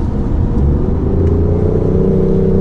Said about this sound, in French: vous voyez le moteur se réveille